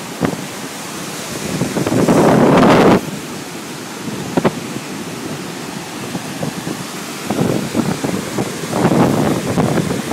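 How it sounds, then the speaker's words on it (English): Strong wind gusts roar across the microphone at a Yosemite waterfall, loud rumbling buffets rising and falling in several surges over a constant rushing background. "Hell no, it's too windy."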